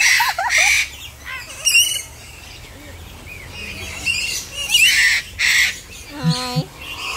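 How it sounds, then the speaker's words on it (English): Birds calling at a safari park in Cebu, with repeated chirps, squawks and crow-like calls scattered across the scene, mixed with people talking nearby. "Bird singing."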